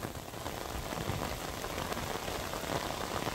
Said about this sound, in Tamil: இப்போ பாருங்க நல்லா கொட்டுது மழை பாருங்க